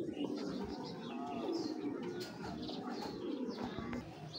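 Breeding racing pigeons cooing softly at close range, low repeated coos with scattered chirps against a busy indoor background where a person's voice comes through now and then.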